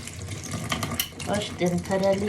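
Tap water runs steadily over spring onions being washed in a kitchen sink, a close, continuous hiss.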